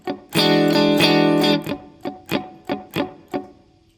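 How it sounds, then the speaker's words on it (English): Funk guitar playing a strumming pattern: about a second of full, ringing strummed chords, then a run of six short, dry, percussive muted scratches in a steady rhythm, loud and alone. "We're going to go ahead and do 4 strums, 2 scratches, 4 strums, and then 6 scratches at the end."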